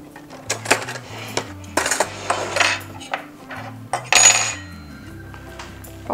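Metal forks clink and scrape against dishes in a home kitchen while chicken pieces are dipped in batter beside a pan of heated oil, a series of close, irregular sharp taps and rattles with brief pauses.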